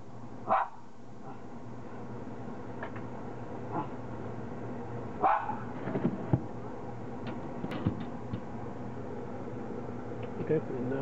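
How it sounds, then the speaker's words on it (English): A neighbor's dog barks a few scattered times at a distance in a backyard beside an electric smoker cooking ribs, over a steady outdoor hum with someone talking. "There's the dog."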